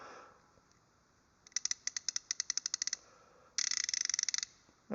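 Two bursts of rapid clicking from a Capri half-inch drive flex head ratchet, a steady run of sharp ticks followed by a faster, denser burst, close up and without speech.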